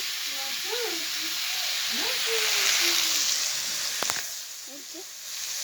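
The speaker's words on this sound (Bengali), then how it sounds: "শাক ভাজছি বেগুন দিয়ে, ভুট্টা শাক।" Corn greens frying with eggplant in a pan give a steady, bright sizzle and hiss throughout, with a person talking over the cooking noise.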